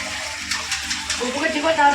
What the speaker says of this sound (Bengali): এবার এই চালটা ধুয়ে নিয়ে